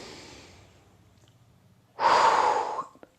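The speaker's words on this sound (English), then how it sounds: "Breathe in and out." Slow breathing in and out during a loosening-up exercise session, a soft faint exhale fading away, then a louder, rushing breath lasting under a second, ending with a small click.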